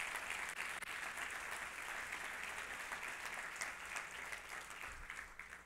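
A congregation at a Christian church service claps loudly and steadily for several seconds, a dense, even wash of applause heard from some distance, with no voices over it.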